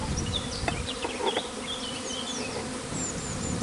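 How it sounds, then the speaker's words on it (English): A honeybee swarm hums densely and close, its layered buzz broken by individual bees whining past the microphone, with no voices. "A very nice, easy to reach swarm."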